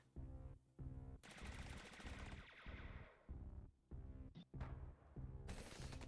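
Rapid bursts of enemy gunfire in the shooter game Rogue Conflict, loud and close, repeating in choppy volleys with short gaps over about six seconds, no voices.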